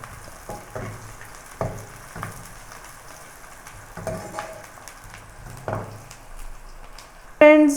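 Onions fry in a pan for a potato curry, giving a quiet sizzle broken by intermittent stirring scrapes, with a louder burst at the very end.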